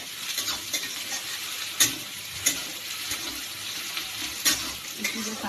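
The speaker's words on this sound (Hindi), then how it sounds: "अब हम डालेंगे इसमें मिर्ची, लहसुन अदरक जो मैंने कूट दिया, उसको डाल के अच्छे से भूनेंगे" Chilli, crushed garlic and ginger sizzling with browned onion in a kadhai, a steady close frying hiss broken by a few sharp stirring clinks.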